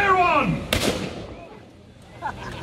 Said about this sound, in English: For the cannon she be a mite loud, and the gunner's aim be a mite poor.